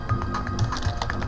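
Quick bursts of keystrokes on a computer keyboard, a close, brisk run of taps with no talking.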